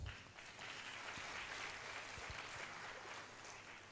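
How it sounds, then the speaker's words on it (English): Faint, distant audience applause at a law students association launch event in Kenya, continuous scattered clapping from a crowd for several seconds. "I want all of you to clap for yourselves."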